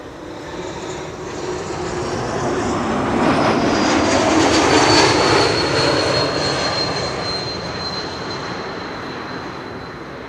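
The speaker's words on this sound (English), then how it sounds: "It's an E2 Ember 195 KLM flight 1414 arriving from Rennes in France" A KLM Embraer E2 195 airliner arrives at Schiphol, its engine roar swelling from a distance to a loud, broad rush with a high whine, then gradually fading as it passes.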